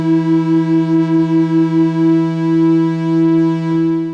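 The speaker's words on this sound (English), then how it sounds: "Little bit of pink noise, and we've opened the filter a bit." A steady synthesizer tone from a Moog Model D-style patch with three oscillators, pink noise and a partly opened filter holds with a rich buzzy harmonic stack and a gentle pulsing wobble that eases off into a smooth sustain.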